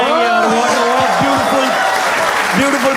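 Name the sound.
audience applause for Naman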